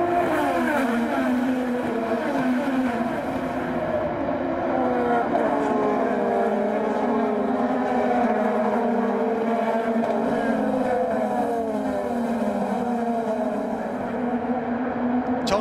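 IndyCar race cars accelerating at a restart on the Detroit street circuit, their engines whining and rising in pitch in overlapping layers as the pack pulls away, loud and continuous under crowd noise.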